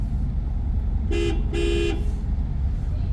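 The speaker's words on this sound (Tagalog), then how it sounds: "ito yung busina" Two short car horn honks, the second slightly longer, over a low steady engine rumble.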